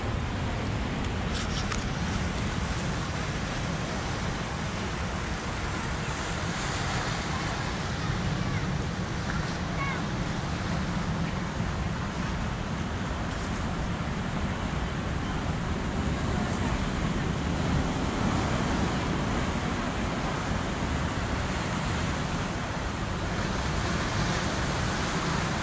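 Steady surf and ocean waves wash continuously at Playa Conchas Chinas, a broad rushing roar with wind buffeting the microphone throughout, no distinct breaks between swells.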